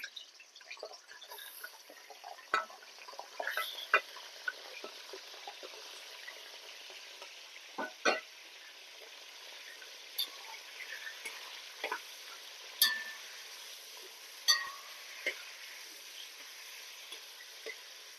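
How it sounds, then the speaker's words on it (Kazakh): Meat frying in about 150 grams of hot oil in a heated kazan cauldron gives off a steady, quiet sizzle, broken by occasional sharp pops and stirring clatters, with no voices. "Майымыз қызғаннан кейін етті салып қуырамыз"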